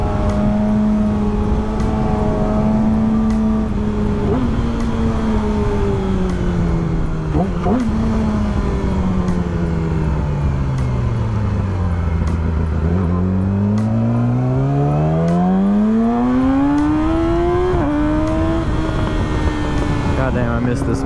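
A motorcycle engine heard while riding, running low on fuel, droning loudly and close throughout with the pitch rising and falling as the rider accelerates and eases off, and a voice talks over it.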